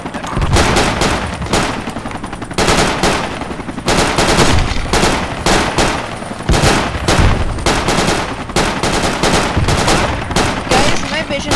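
Machine guns rattle in the military shooter Project Reality, loud close bursts of rapid automatic fire in repeated clusters with short gaps, layered over the din of a firefight, with a voice talking briefly underneath.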